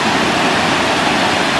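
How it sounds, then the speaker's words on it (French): Retournemer waterfall in the Vosges mountains near La Bresse, a steady, loud, broadband roar of falling water that fills the whole moment without a break, close by and alone with no voices over it. "il ne faut pas oublier de passer par la cascade de Retourne-Mer."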